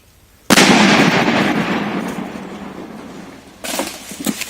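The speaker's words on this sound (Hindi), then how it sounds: "बम निरोधक दस्ते ने लैंडमाइंस को किस तरह से डिफ्यूज किया" A landmine detonated by a bomb disposal squad in Khunti goes off as one sudden loud blast, followed by a long rumbling decay. A second, smaller burst of crackling noise arrives near the end.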